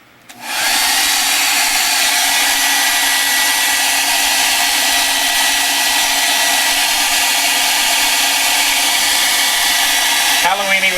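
A hair dryer blowing on an art journal page starts abruptly and runs as a loud, steady whoosh and whine close to the microphone, then ends with a short shift in tone.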